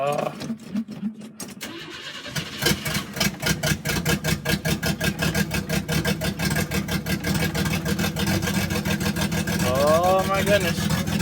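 Cold start of a 1984 GMC S15 truck engine: a rapid starter cranking catches and settles into a rough, pulsing idle, loud and close, with a voice briefly heard near the end.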